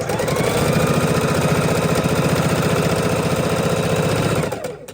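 A sewing machine stitches face-to-face fabric for half square triangles, a fast, even mechanical chatter running steadily and close, then stopping abruptly near the end.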